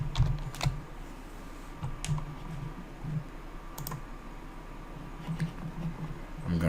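Someone types a username and password on a computer keyboard, making sparse, close key clicks in short irregular bursts over a quiet room, with no talking.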